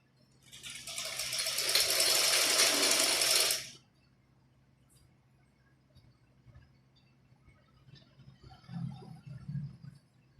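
A sewing machine stitches a salwar in one steady, close whirring run lasting a few seconds, then stops, leaving faint handling noises and soft movement.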